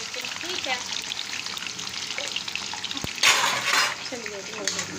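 Potato chips sizzle loudly as they fry in hot oil in a home kitchen, a dense bubbling crackle with a few clinks and clatters of utensils and a brief burst of sharper spitting midway.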